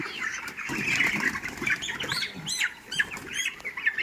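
Poultry birds on a farm squawking and clucking as a dense, continuous chorus of overlapping calls, fairly close and steady throughout with no voices.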